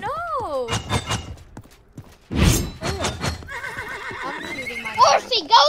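A horse whinnies in the Realm Royale video game, with a long rising-and-falling neigh at the start, followed by hoof clip-clops and thuds in a busy game scene while voices talk.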